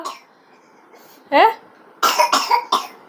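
A young child coughs in a home kitchen, with a faint murmur first, then one sharp cough and a quick cluster of three harsher coughs close to the listener.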